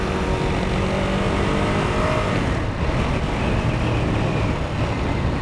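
A Ducati Monster 821 motorcycle engine drones steadily while riding along a wooded route, a continuous close rumble mixed with wind noise and no talking.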